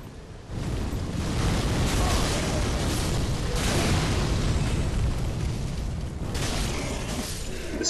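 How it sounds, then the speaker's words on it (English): An enemy in Dark Souls 3 breathes fire in a loud, sustained roaring whoosh that starts abruptly and holds for several seconds, with a brief surge partway through. "This fire breath attack is pretty annoying."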